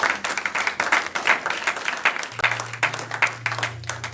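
A church congregation at a Sunday service breaks into sustained applause, a dense wash of clapping hands with rhythmic surges, over a low sustained organ or keyboard tone that rises partway through.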